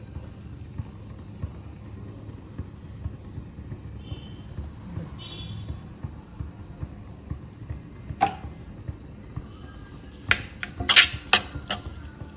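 Sweet filling with condensed milk is stirred in a pot at home, with scattered metallic clinks and scrapes of a spoon against the pan over a low steady background, growing into a quick cluster of clatter near the end.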